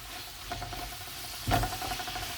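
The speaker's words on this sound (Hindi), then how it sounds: "हम प्याज को गोल्डन करेंगे, अच्छे से इसको फ्राई करेंगे।" Onions fry in a pan for chicken pulao, a low steady sizzle with soft stirring scrapes and one louder clatter of utensil on pan, close and brief, no talking.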